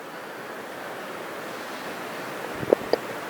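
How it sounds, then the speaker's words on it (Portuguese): Rain makes a steady, even hiss that fills the whole stretch without a break. Two soft knocks sound near the end, and no one speaks. "É a chuva, né?"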